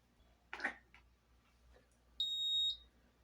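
A washing machine control board beeps once as it is powered on: a single clear electronic tone lasting about half a second, preceded by faint handling clicks in an otherwise quiet room.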